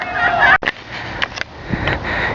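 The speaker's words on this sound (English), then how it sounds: "we have a bunch of Canadian geese right in front of us" Canada geese honk near the water beside Dundurn Castle in Hamilton, Ontario, a few loud close calls over outdoor background noise.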